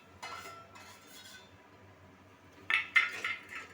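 Stone flower (kalpasi) and curry leaves go into a cooking pot for village-style biryani, giving a faint clink early on, then a louder cluster of metallic clattering and scraping near the end, with no talk.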